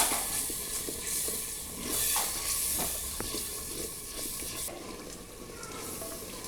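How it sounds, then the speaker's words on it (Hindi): Masala with salt, crushed red chilli and chicken stock fries in a pan for aloo qeema salan, giving a steady soft sizzle and hiss with occasional light stirring scrapes throughout. "अब हम इसको अच्छी तरीके से भून लेंगे।"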